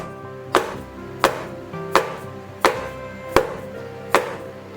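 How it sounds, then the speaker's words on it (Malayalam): Six sharp, evenly spaced knocks of a greased cake tray of chocolate cake batter being tapped down on a counter, each thud ringing briefly before the next, close and clear with no talking. "നന്നായിട്ടൊന്നൊരു 10-20 പ്രാവശ്യം ടാപ്പ് ചെയ്ത് കൊടുക്കണം"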